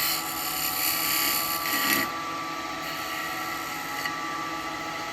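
Wood lathe spinning a burr blank while a skew chisel cuts a slight dovetail, a steady whining hum with scraping tool noise that is louder for the first two seconds and then settles to a constant drone.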